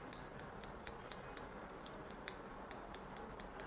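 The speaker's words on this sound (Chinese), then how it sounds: "我们去剪中间的主刘海啊" Hair-cutting scissors trimming the middle bangs of medium-length hair, a series of faint, crisp snips at irregular intervals over a quiet background.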